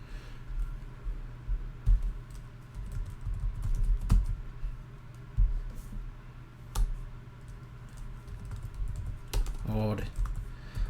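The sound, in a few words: typing on a computer keyboard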